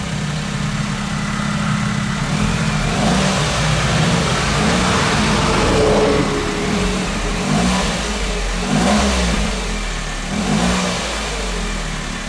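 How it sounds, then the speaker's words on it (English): A Smart car engine fires up and idles close by, then revs in several rising and falling bursts, loud and steady with no talking. "Let's go start it up and see what it sounds like right now"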